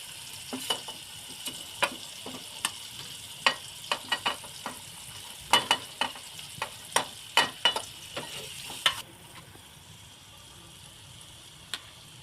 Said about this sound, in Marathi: मसाले तेलामध्ये परतून घ्यायचं आता यामध्ये बाकीचे सर्व मसाले घालते